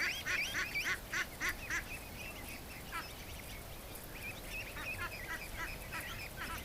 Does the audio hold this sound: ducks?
yes